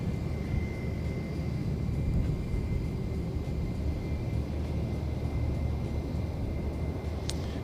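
A Jetstar airliner on a repositioning flight rumbles overhead, a steady, distant roar with a faint high whine, heard from an airport at Christchurch without talk.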